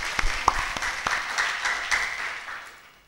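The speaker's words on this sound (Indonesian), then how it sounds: "tepuk tangan dulu untuk semuanya" Applause from an audience at a Tasikmalaya mayoral candidates' debate, a few distinct claps at first, then a steady moderate patter that gradually fades out.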